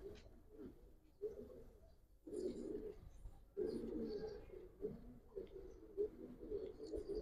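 Giribaz pigeons coo close by in soft, low, repeated throaty bursts, one after another over a quiet background, with no talking.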